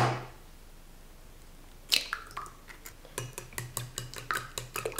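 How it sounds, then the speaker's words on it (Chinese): Eggs whisked briskly in a bowl for a Chinese chive pancake, a quick series of light, sharp clinks of utensil against the bowl starting midway and continuing in an uneven rhythm, close and clear over a quiet background. "把鸡蛋搅散"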